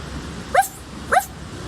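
A dog gives two short barks about half a second apart, moderately close and alone against a quiet background hiss, heard at night near a campground.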